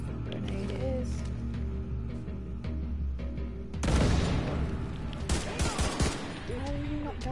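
Grenade blast in The Division 2, a loud burst of explosion noise that breaks through steady game ambience and scattered gunfire, with sharp follow-up cracks of shooting after it.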